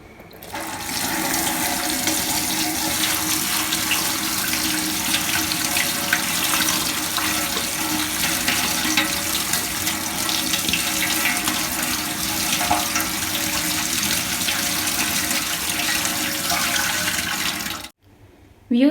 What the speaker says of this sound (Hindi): अब मैं पोटैटोज़ को वॉश कर लेती हूँ छलनी में डाल के।